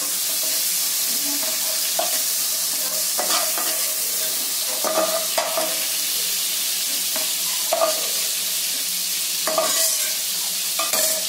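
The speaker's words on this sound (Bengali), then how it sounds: "চিংড়ি মাছটা ভাজা ভাজা হয়ে গেছে। এবার এগুলো আমি তুলে নেবো কড়া থেকে।" Prawns frying in a kadai over a steady, loud, close hiss of hot oil, with intermittent scraping stir strokes scattered through it and no talking.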